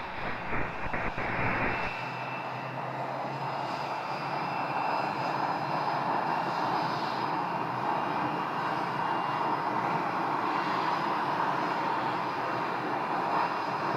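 A business jet's engines roar steadily in the distance, a continuous whining rumble that holds throughout with no voices.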